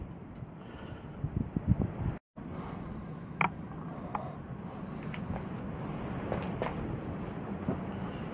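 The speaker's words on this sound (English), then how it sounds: "wind is blowing like billio" Strong, freezing cold wind buffeting the microphone outdoors, a constant rough roar with a few scattered knocks and clicks, heard alone without talk.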